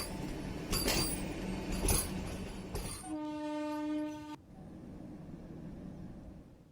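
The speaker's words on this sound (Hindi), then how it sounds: "वंदे भारत ट्रेन दिल्ली से वाराणसी जा रही थी" A Vande Bharat express train, travelling from Delhi to Varanasi, passes with rumbling wagon noise and a loud, sustained horn blast of about a second and a half midway. Quieter rail rumble follows, with no talking.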